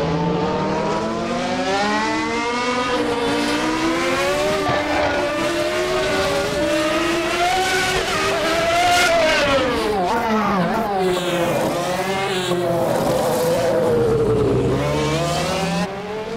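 A Suzuki Escudo Pikes Peak hill climb race car engine screams loudly and continuously, its revs rising and falling in sweeping waves as it accelerates and shifts, with a voice faintly present.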